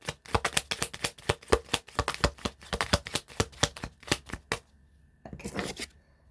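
A deck of affirmation cards being shuffled, a rapid run of crisp riffling flutters for about four seconds, then a brief pause and a softer final shuffle, close and alone with no talk.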